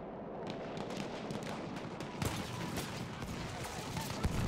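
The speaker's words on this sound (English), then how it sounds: "Oh, it's so many grenades." Battlefield 1 battle in a competitive frontlines match: dense rolling gunfire and repeated grenade blasts, a constant rumbling din with sharper bursts near the middle and end, heard continuously without talk.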